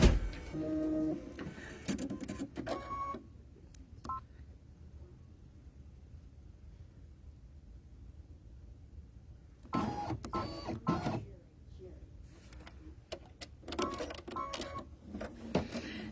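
An embroidery machine stitching the OESD turkey time design, loud rapid mechanical chattering in bursts, then a long quiet pause before the stitching resumes and continues.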